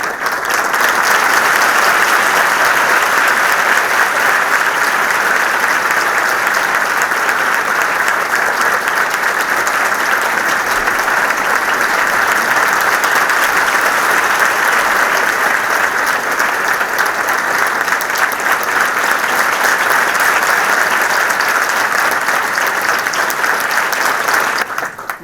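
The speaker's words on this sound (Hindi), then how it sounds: "ये जो ताली आपने बजाई" Sustained audience applause fills a hall at an academy success ceremony, loud, dense and continuous clapping that holds steady for about twenty-five seconds before tapering at the very end.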